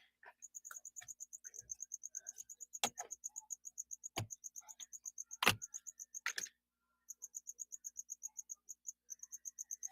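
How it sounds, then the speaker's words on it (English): A cricket chirps in rapid, regular pulses inside a tarantula enclosure, fairly close and clear, with a few sharp knocks and taps breaking in and a short pause before the chirping resumes. "whatever cricket's up here singing is going bye-bye"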